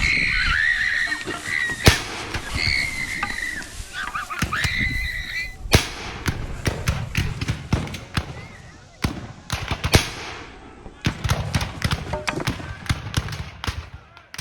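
Musket volleys at a Gettysburg battle reenactment crack out as repeated sharp, loud reports, some spaced and some in ragged bursts, with shouted commands between them.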